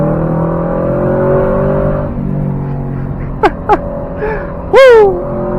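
A BMW engine revs hard on a winding mountain road, a loud close drone rising and falling, followed by sharp whoops and excited shouts from passengers.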